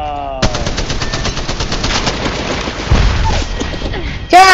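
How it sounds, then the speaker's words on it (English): Rapid automatic gunfire bursts in the mobile battle-royale game Apex Legends Mobile, loud and close, firing in quick rhythmic volleys with heavier hits and a brief sharp burst at the end, over faint game sounds. "They're shooting at me."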